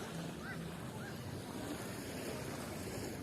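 Sea waves wash steadily on the beach at Argan Resort in Kuwait, a continuous surf roar with wind buffeting the microphone and faint voices in the distance.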